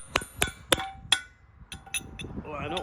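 Sharp metallic hammer taps knocking a tabbed pin into a cultivator, about four distinct strikes spaced roughly a third of a second apart, followed by lighter clinks and faint handling noise.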